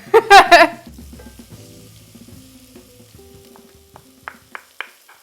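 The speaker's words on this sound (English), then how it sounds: "I really like to let my spices just cook. Cook in the onions, the garlic, and the ginger." Curry spices cooking in a pan with onions, garlic and ginger: a loud clatter at the start, then a soft, low sizzle with a few sharp clicks near the end.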